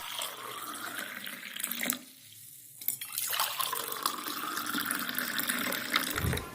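Warm water runs from a kitchen tap in a steady rushing stream close by. It stops for about a second and then resumes, with no talking.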